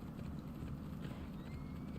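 Horse hooves in the video game Assassin's Creed Odyssey, a quick steady clip-clop of galloping over a dense low rumble, close and continuous with no talk.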